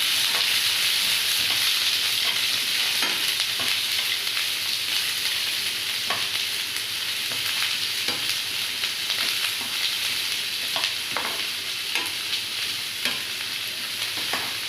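Onions fry in a pan with a constant bright sizzle and repeated scraping stirs of a spatula, close up and steady for about fifteen seconds, no speech.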